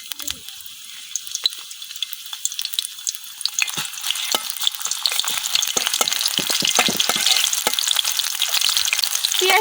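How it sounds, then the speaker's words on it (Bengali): Oil heating in a hot wok for cooking fish heads: a faint hiss swells into loud, crackling sizzle with sharp spatters and stirring clatter, growing denser toward the end. "কড়াই গরম হয়েছে, এখন কড়াই তেল দিতেছি।"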